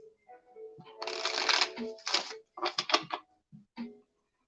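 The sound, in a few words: shuffling cards for a psychic reading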